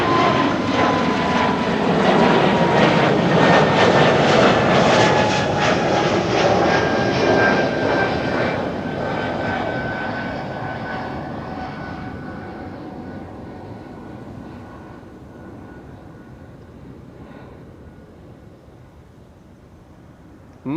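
An Air Baltic airliner on flight 618 to Riga roars past at Amsterdam Schiphol Airport, loud and close at first, then steadily fading into the distance as it moves away.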